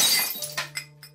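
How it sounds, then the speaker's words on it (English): Window glass of a Pizza Hut storefront breaking, a sharp shattering crash at the start followed by a few scattered clinks and tinkling fragments that fade quickly. "Walton was arrested in Miami for attempting to break a Pizza Hut window."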